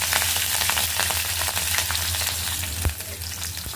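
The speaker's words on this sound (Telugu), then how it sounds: "ఇప్పుడు బాండీ పెట్టి నూనె పోసి ఆవాలు జీలకర్ర శనగపప్పు మినపప్పు పచ్చిమిర్చి" Mustard seeds, cumin, chana dal, urad dal and green chillies tempering in hot oil in a kadai, a dense sizzling hiss with a few spoon scrapes and one sharp knock, close and loud, no talking.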